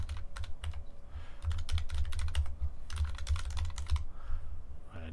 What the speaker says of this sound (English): I can also start typing in here